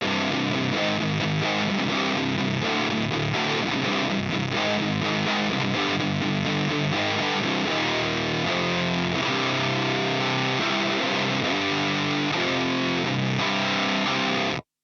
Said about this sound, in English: So even with just running the plasma pedal